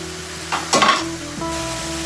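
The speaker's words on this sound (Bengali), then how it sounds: "গ্যাস হাই হিট করে আমি শাকের জলগুলোকে শুকিয়ে নেবো" Leafy greens (kata khunre shak) cook down in a pan over high gas heat, giving a steady low sizzle with a brief louder stirring scrape in the middle and faint tonal hum throughout.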